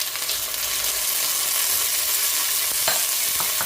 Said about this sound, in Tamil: போட்டுட்டு இதை நல்லா மிக்ஸ் பண்ணி கொடுப்போம்